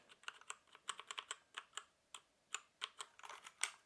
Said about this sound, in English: you can never get enough of the nice clicky sounds that keyboard presses